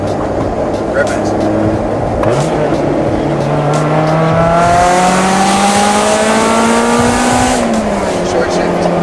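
A Honda S2000 engine climbs steadily toward redline under acceleration, a loud rising wail heard from inside the cabin, then drops off at the shift; people talk over it.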